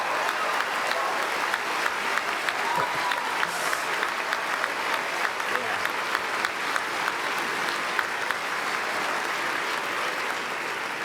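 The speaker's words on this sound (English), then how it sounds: "Give yourself a round of applause, please." A large commencement crowd claps continuously and fairly loudly for about eleven seconds, a dense, even wash of hand claps with occasional faint cheers, no speech over it.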